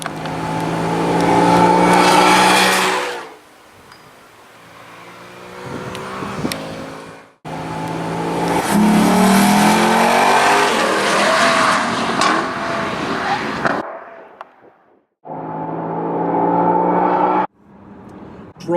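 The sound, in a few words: V8 sports car accelerating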